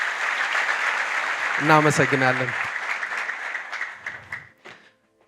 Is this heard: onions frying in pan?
no